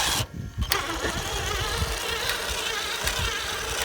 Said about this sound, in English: Drill's a little dead, but it's going to do the job